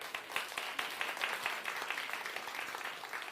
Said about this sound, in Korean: 박수를 받으려고 한 건 아닌데요